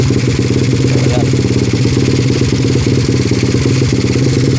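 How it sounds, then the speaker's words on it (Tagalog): A motorcycle engine fitted with a racing flywheel runs with no battery, a loud, close, steady rapid thumping with no voices. "umaandar siya kahit na walang battery"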